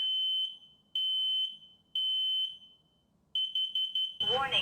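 A smoke detector's test button sets off loud, piercing alarm beeps, three long tones spaced about a second apart followed by a quicker run of short beeps, with a voice breaking in at the end.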